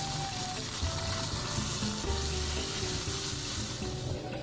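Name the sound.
Greenland halibut fillet pan-frying over medium heat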